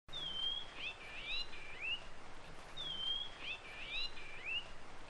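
A female Riverbank Warbler of the Atlantic Forest sings twice, faint and somewhat distant over steady background hiss. Each phrase is a short sequence of thin, high slurred whistles, and the second repeats the first.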